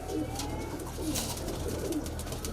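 Soft cooing of a high-flying Kalpare pigeon in a loft in Patna, a low repeated murmur over steady background noise, fairly faint and without talk.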